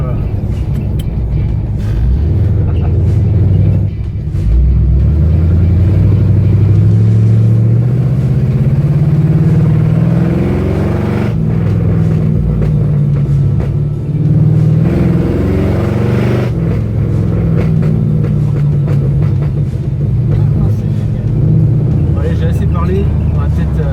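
A 1971 Chevelle V8 rumbles and revs, its deep exhaust note rising and falling through several throttle blips with some rough popping, while someone talks over the engine throughout.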